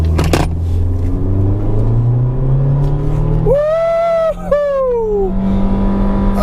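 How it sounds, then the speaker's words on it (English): A 2015 Nissan Sentra SV pulls away from a standstill under hard acceleration, its engine note climbing steadily, then a sharp shift and renewed rising whine, loud and close throughout. "So I'm gonna do a dead takeoff and show you this thing ain't quick at all."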